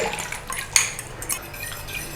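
Cornstarch slurry being stirred into lemon chicken in a crockpot, heard as faint wet stirring with a couple of light clinks of a utensil against the pot, close and quiet, with no talking.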